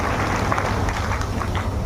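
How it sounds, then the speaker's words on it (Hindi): Applause from a crowd at a political rally, a steady dense wash of clapping that stays even and fairly loud throughout, with no gaps. "नगर निगम के पार्षद, अधिकारी, दोनों हाथ ऊपर करके उठा के ताली बजाइए।"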